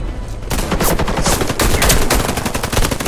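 Rapid automatic gunfire in the Warface shooter on Xbox 360, loud and close, with dense bursts of shots rattling continuously after a brief lead-in.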